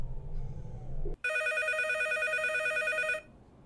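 Telephone ringing in a horror video game, a loud electronic ring that starts abruptly after a brief rumble and rings continuously for about two seconds before cutting off.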